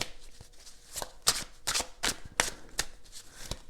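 Tarot cards are handled and shuffled close up, a series of crisp riffling bursts and soft slaps at an irregular pace, quiet and alone.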